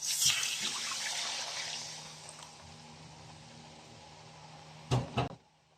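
Coconut milk poured into a curry pan for a yellowfin tuna curry makes a soft, close gushing splash that fades over two seconds, followed later by a couple of dull clunks.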